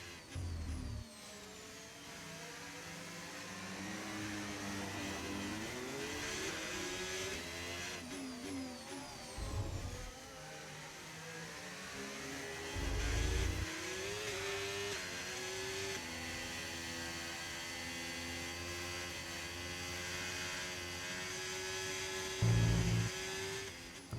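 Race car engine in a racing video game at the Circuit of the Americas, held at a steady high drone through a flying lap, with pitch rising and falling through gear changes and short low bursts on downshifts and braking.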